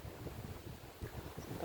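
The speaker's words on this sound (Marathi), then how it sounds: "जास्त वारं सुटले आता" Strong wind gusting outdoors over dry farmland in the eastern Phaltan area, producing a steady, rough rushing roar that buffets the microphone throughout, with no voices.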